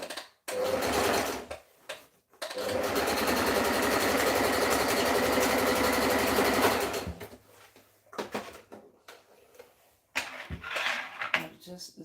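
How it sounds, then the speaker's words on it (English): An overlock sewing machine stitches a dress. A short run is followed by a long, steady, close buzzing stretch of rapid stitching, then brief uneven bursts after a pause. "this is the right time for you to use the overlock machine."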